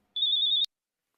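A single short electronic ring tone from an incoming call from an unknown number, a bright steady beep lasting about half a second, close and clear, then silence.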